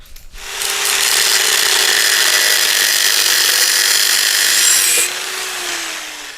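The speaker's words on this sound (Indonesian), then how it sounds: "Ini perihal ngebor." A drill bores steadily into metal during a Honda Supra motorcycle restoration, running as one loud continuous whine for about four and a half seconds before it eases off, with no talking.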